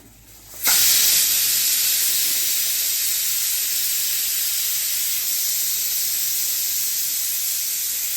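A mixer grinder grinding roughly cut onion starts abruptly and runs with a loud, steady whirring roar that holds constant to the end, with no voices.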